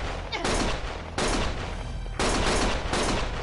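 Heavy gunfire from the Lost Judgment video game, with dense, loud bursts of shooting arriving in three surges about a second apart, broad and harsh, with no talk over them.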